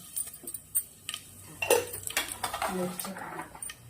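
Metal spatula scraping and clinking against a pan of asafoetida, mustard seeds and onion in quick irregular strokes, close by, building into a busier stirring rattle.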